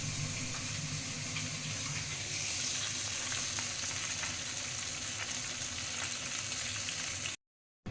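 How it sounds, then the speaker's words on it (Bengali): Hilsa and catla fish pieces fry in oil with a quiet, steady sizzle and crackle that runs unbroken until it cuts off abruptly just before the end. "মাছ ভাজা হয়ে গেছে দেখো এই যে ইলিশ মাছ এখানে আর কাতলা মাছ দু পিস এখানে"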